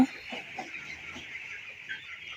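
Broiler chicks about three weeks old on a poultry farm peep and chirp steadily, with a few louder calls standing out from a busy flock background.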